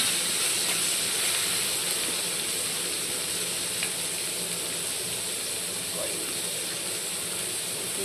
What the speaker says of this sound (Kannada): ಇವಾಗ ರೋಸ್ಟ್ ಹಾಕಿರ್ತೀವಿ.